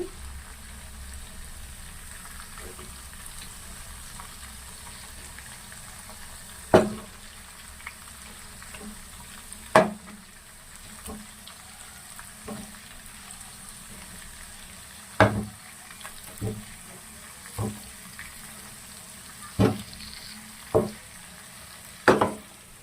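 Tandoori chicken sizzling softly in a pan on a low flame, with a faint steady frying hiss and scattered sharp clanks and scrapes as the pieces are turned over.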